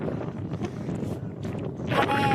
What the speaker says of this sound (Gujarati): ફૂલ પવન આવે. તમે આ સ્પીકરમાં સાંભળી શકો છો.